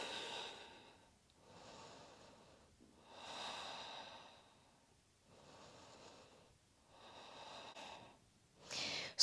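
Slow, deep breaths during an advanced yoga flow, each long inhale or exhale audible on its own and separated by short pauses, with a sharper, louder breath at the very end.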